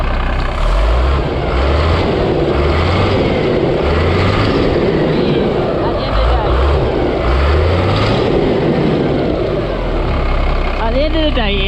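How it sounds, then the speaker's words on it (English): A Euro 2 diesel engine running rich and idling with a steady low rumble and a repeating pulsing throb, loud and close throughout. Faint background sounds come through near the end. "it is a Euro 2 engine, so it's not going to be the cleanest burners"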